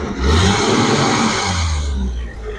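A 1980s manual-transmission car with rough-cut gears accelerates hard, its engine note loud and close, swelling and holding steady before easing off near the end.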